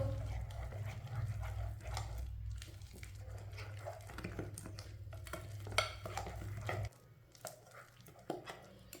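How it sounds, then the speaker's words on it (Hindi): Spoon stirring a thick gram flour pakora batter seasoned with turmeric, ajwain and red chilli, soft wet scraping strokes over a steady low hum that cuts off near the end, quiet and close. "आधी चमची अजवाइन। अच्छी तरह मिक्स कर लेंगे सब चीज़ों को"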